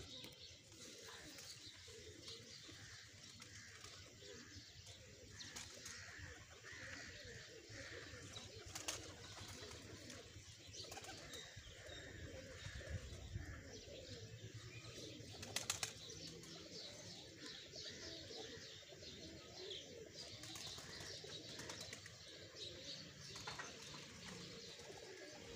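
Soft, repeated pigeon coos drift over a busy outdoor background with faint chirps and occasional wing flaps; the cooing stays low and steady.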